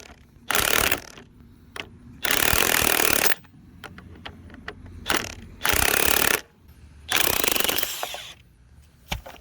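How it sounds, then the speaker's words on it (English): An impact wrench works loose the top strut bolt on a 2013 BMW X5 E70 front strut. It gives four loud, close bursts of rapid rattling hammering with short pauses and small clanks between them. "I'm going to use an impact on that top bolt"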